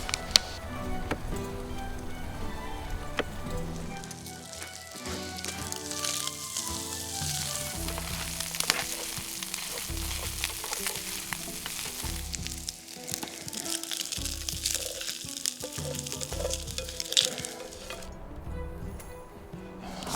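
Bacon, eggs and mushrooms fry in a pan over a small wood fire outdoors, a continuous crackling sizzle with bursts of spatter and occasional scraping, close and moderately loud, with a voice talking at times.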